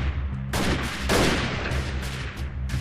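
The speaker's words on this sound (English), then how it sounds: "They're shooting." Gunfire in the video game Freeman: Guerrilla Warfare crackles in a string of sharp shots and bursts over a low rumbling game backdrop, loud and close, without speech.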